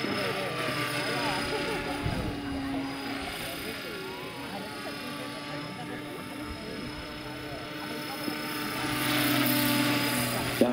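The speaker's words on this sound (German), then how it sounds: "viele Hubschrauber fliegen ja insofern, dass sie mehr schweben als fliegen" A Bo-105 scale model helicopter flies at a model helicopter meeting, giving a steady rotor and engine whine throughout that swells near the end, with people talking over it.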